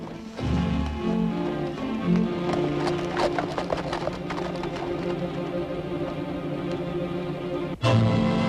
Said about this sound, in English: It's the horses, Micah!